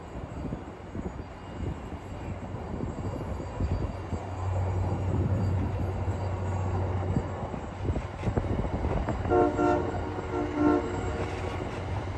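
An MBTA commuter rail train rumbles past at Assembly Square near the Orange Line, a steady low rolling drone heard from some distance, with a horn-like tonal blast sounding briefly toward the end.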